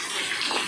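Hot spring water pouring steadily from a spout at a natural bathing spot, a loud, continuous close splashing gush with no voices over it.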